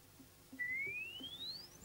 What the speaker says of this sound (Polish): Ten krótki gwizd umożliwia zbadanie czterech parametrów